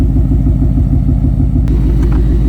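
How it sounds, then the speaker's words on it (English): A 2020 Mustang GT with an XForce 3-inch catback exhaust idles with valves open, a loud, deep, steady throbbing burble, constant and close. "So this is what it sounds like with the valves open idling."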